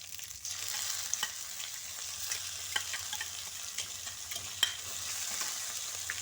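Long beans stir-frying in a pan give a steady soft sizzle with scattered small crackles and a few louder spatters, close and moderately quiet, with no voices.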